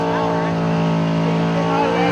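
A drag race car running on a big carburetor holds a loud, steady, buzzing engine drone with dense harmonics, close and constant for the whole moment, without pauses.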